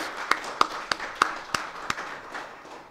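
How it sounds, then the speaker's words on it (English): At a conference on the geoglyphs of Konkan, a small audience claps for the organizers: sparse, fairly even claps, roughly three per second, faint and from a little distance. "I request all of you to give a big applause of hands to the organizers."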